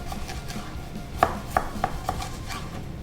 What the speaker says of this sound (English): now we're gonna cut it into fries